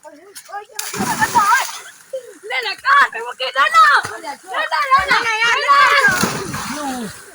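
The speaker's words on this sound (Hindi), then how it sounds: "अब ये लोग डुबकी लगा रहे हैं तीनों" Several people splash and dive into muddy village pond water during a rural swimming and diving contest in Pakistan, with repeated sloshing splashes under constant excited talk and shouting from the crowd.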